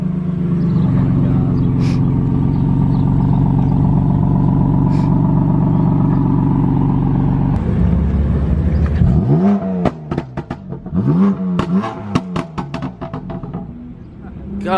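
A BMW M4 in sport mode runs loudly with a deep, steady idle rumble, then sharp revving blips rise and fall in quick bursts close by, while people talk nearby.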